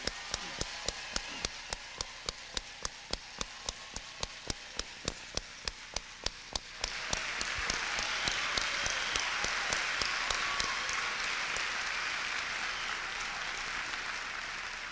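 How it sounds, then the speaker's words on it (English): Steady, evenly spaced single claps give way to a crowd's full applause at George Washington University, a broad sustained patter that gradually fades. "How about a real humdinger of an applause?"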